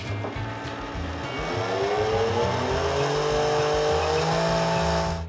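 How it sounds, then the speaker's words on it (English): A small 10 RPM camera-slider motor whirs continuously on a wooden table, its pitch slowly rising and drifting, loud and close with a rattling resonance underneath. "I'm using here a 10 RPM motor"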